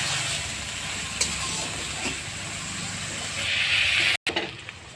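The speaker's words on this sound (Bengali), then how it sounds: "পেঁয়াজ রসুন একসাথে একটু ভেজে নেব লাল লাল করে" Onion and garlic frying together in a pan until reddish brown, giving a steady broad hiss that swells louder near the end, with a brief cut and a few clinks afterward.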